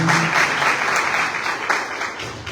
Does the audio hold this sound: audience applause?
yes